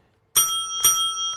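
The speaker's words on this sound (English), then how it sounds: "and the sound of a bell" A bright metallic bell rings twice in quick succession at a televised Republican political debate, each strike clear and loud with a long ringing sustain.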